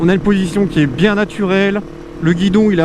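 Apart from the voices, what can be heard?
No everyday noise stands out behind the speech.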